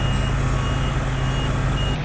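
A truck reverses across an asphalt base-course paving site laid with RAP asphalt, its backup beeper repeating steadily over a loud, continuous engine and machinery rumble, with no talking.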